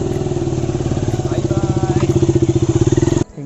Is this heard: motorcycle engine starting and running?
yes